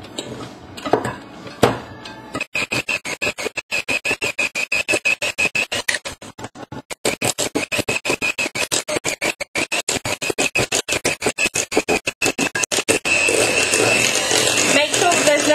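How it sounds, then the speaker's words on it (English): Rapid rhythmic clinking of a metal whisk against a bowl while ripe bananas are mashed for a banana cake, a steady fast beat lasting throughout, with someone talking over it at times. "So mash all the bananas together. You can use a whisk like this for that."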